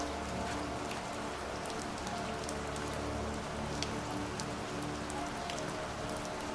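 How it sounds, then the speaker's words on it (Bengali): Rain falling steadily at night, a dense even patter on surfaces with scattered sharper drops, continuous and moderately quiet throughout. "আকাশের ঘন কালো মেঘ আর বুদবুদি বৃষ্টির সাথে বজ্রপাতের তীব্র শব্দ যেন প্রকৃতিকেও ভয় দেখাচ্ছিল"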